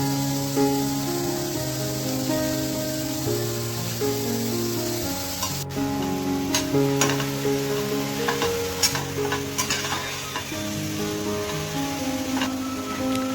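Onion, chopped tomato and beans frying in a pan for a vegetable egg drop soup, a steady close sizzle with stirring scrapes and occasional clicks over a low held musical tone.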